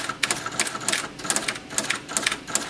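A Royal Officemaster 2000 daisy wheel printer converted into a typewriter clatters through rapid bursts of typed characters, a fast, rhythmic mechanical chatter with regular short pauses, close and fairly loud.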